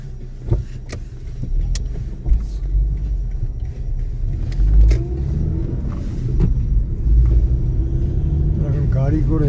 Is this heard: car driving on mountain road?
yes